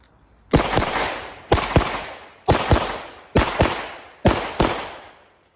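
A Glock 19 pistol fires a second magazine: five loud, evenly spaced pairs of sharp shots, each quick double crack trailing off in a short echo, with no voices.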